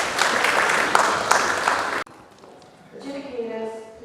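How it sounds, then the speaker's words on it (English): At a debate event, an audience gives warm applause, a dense burst of steady clapping lasting about two seconds that cuts off abruptly. A quieter pause follows, then a voice speaks. "Please give her a warm applause."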